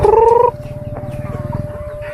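Chickens cluck close by in a quick, steady run of short pulses, following a brief loud crow-like call at the start.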